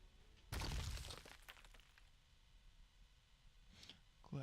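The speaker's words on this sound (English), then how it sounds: "At last, Gluttony's core shatters." A monster's crystal core shatters in the Nikke video game, a loud burst of breaking crystal that rings out for about half a second before fading. Faint glassy clinks follow, and a few sharp cracks sound near the end.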